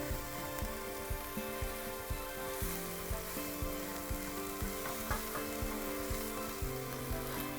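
A burger patty fries in a hot skillet with a steady, dense sizzle and crackle, close and constant, broken by faint scraping or stirring taps.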